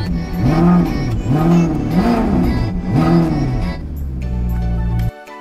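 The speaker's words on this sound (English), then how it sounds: "this engine with this exhaust is outrageous" Alfa Romeo 8C Competizione Spider V8 with its exhaust, revved hard three or four times in rising and falling sweeps, close and loud, then easing to a rumbling idle before cutting off abruptly.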